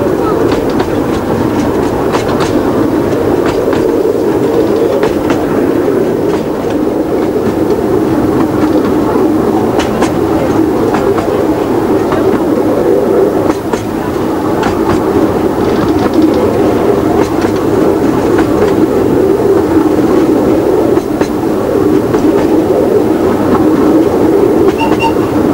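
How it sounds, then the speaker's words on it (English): Cleethorpes Coast Light Railway train running along the seafront, heard from on board as a loud, steady rumble with faint rhythmic clatter of wheels on track throughout, without clear talking. "Well, as you can see now, we're on the train. Running along the front there."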